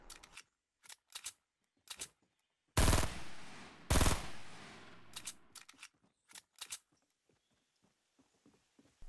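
Gunfire in the battle royale game Fortnite: several short bursts of shots spread across the stretch, with two louder, longer crackling blasts near the middle, then more scattered pops fading out, no talking.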